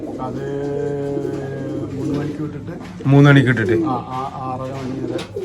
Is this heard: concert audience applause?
no